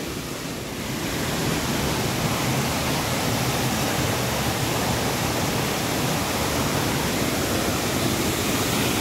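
Forest stream water rushing steadily and loudly nearby, a dense continuous wash that starts slightly softer and then holds level throughout, with no voices.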